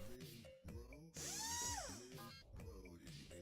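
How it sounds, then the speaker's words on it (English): Totem lathe in the Homestuck game carving a Cruxite dowel into a totem, a whirring, pitch-shifting machine drone that rises and sweeps, with brief breaks, moderately loud and alone. "The lathe carves one totem."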